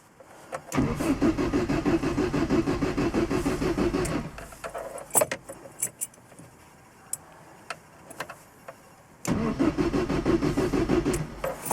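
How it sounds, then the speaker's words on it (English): A Lotus Excel engine cranks over twice with a rapid rhythmic chugging of the starter, each burst lasting several seconds, with clicks and quiet pauses between without firing; fuel pump disconnected. "So let's try and turn the engine over a couple of times."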